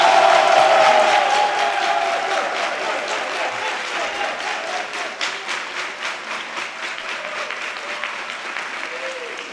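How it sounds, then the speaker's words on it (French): An audience at a comedy show applauds a graduate, a burst of clapping and some cheering that starts strongest and settles into steady, slightly fading applause. "On va l'applaudir."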